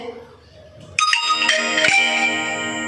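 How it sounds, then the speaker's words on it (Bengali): A phone chimes with a bright message notification tone as texts arrive once mobile data is switched on. The ringing tone sustains loudly near the microphone over a faint background hum. "নেট চালালাম বলে মেসেজ ঢুকছে"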